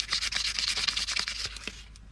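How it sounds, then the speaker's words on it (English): Part of a Ferrari mechanical fuel pump is sanded or scraped by hand with quick, steady, gritty rubbing strokes, close and continuous. "Maybe I could just sand this off or just scrape it"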